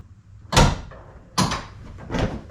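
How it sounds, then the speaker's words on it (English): Lexus GS400 trunk hinge being adjusted to the middle slot, giving three sharp knocks and clunks from the hinge and trunk hardware, spaced about a second apart, close and fairly loud with no talk. "I'm gonna go ahead and make the adjustment to the middle slot"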